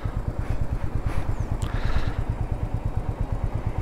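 Royal Enfield Meteor 350 motorcycle engine on a first ride, a steady low thumping pulse running continuously and close, with a brief slight rise in the middle.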